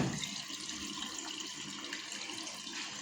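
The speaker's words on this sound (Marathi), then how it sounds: "पहिल्यांदा याच्यामध्ये असं पाणी पडतं," Water gushes steadily into a front-loading washing machine drum at the start of an express wash cycle, a continuous close rushing and splashing flow with no talk.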